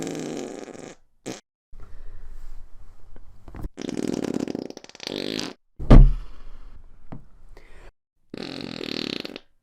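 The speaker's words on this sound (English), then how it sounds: "The balloon can do its own fart too." A balloon blown up with farts lets its air out in a series of raspy, sputtering fart-like blasts, some long and some short, separated by brief silences and a sharp pop-like burst, close and fairly loud.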